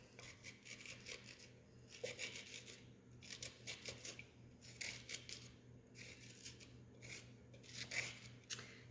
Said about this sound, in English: scrape out the seeds